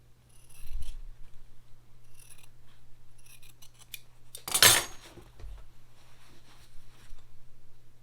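Scissors snip through quilt fabric, trimming a seam allowance to a quarter inch: a single sharp, close cut stands out against a quiet room with a low steady hum and a few faint handling rustles.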